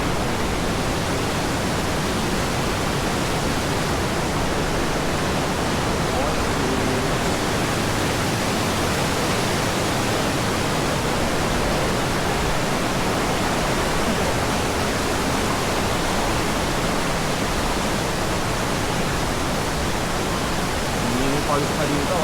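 Ditumabo Falls in Baler, Aurora pours in a steady, loud roar of rushing water that holds unbroken and close the whole time, with no pause or change in level.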